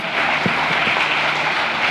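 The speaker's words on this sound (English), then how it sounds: "Mais on peut l'applaudir encore une fois très très fort." Dense, continuous applause from a seated audience at an environmental symposium on superyachts, steady and fairly close for a couple of seconds with no talk over it.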